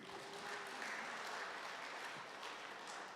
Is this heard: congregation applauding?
yes